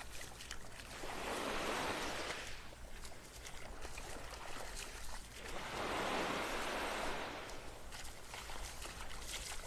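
Ocean surf rolls onto the beach in North Naples, Florida as the tide comes in, two broad swells of breaking-wave wash rising and fading over a steady low rumble.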